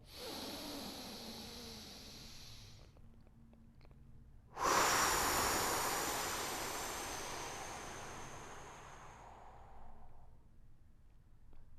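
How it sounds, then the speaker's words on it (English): Steady exercise breathing: a long, airy exhale fades out, a pause follows, then a loud, close rushing breath begins and slowly trails off over several seconds. "Second inhale, letting it out. Third inhale."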